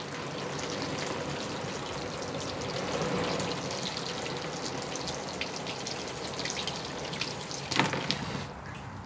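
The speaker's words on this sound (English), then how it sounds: "let's give it its initial watering and watch this dusty soil" Water poured over a freshly repotted privet bonsai trickles and drains through dusty soil, a steady wet splashing and dripping that continues close by for the whole stretch.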